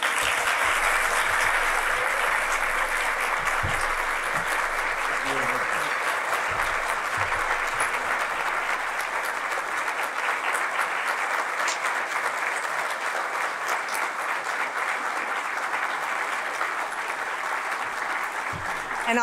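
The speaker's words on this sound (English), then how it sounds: "one more round of applause for Judge Salas." A conference audience applauds a judge after her speech, a long, steady, even roar of many hands clapping that holds for nearly twenty seconds with a few faint voices underneath.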